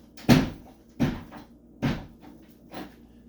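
A door is opened indoors, giving four separate knocking thuds spaced about a second apart, the last one softer, close by with no talking.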